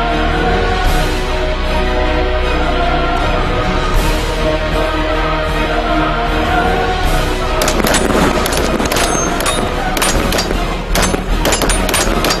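Rifle gunfire at hidden targets in a team shooting zone during a Snow Leopard commando competition: loud rapid cracks and bursts pile up in the second half over a constant rumbling backdrop.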